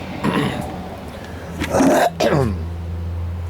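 A few rough, throaty coughs and throat-clearing bursts from someone getting over a virus come close to the microphone, with a low steady hum behind them.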